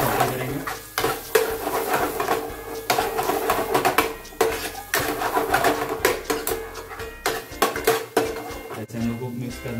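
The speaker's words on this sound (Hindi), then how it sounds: "थोड़ा सा रेड मिर्ची पाउडर, हल्दी, और हमारा पनीर मसाला, ये सारा फ्राई करेंगे।" Red chili powder, turmeric and paneer masala frying in a pan for shahi paneer, with a spoon scraping and stirring in repeated strokes over a steady sizzle, close and fairly loud throughout.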